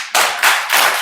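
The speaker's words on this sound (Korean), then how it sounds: "강사님 나올 때 힘찬 박수 부탁합니다." Audience members at a church lecture clap as the guest pastor comes out, three loud close bursts of clapping in quick succession with no talk.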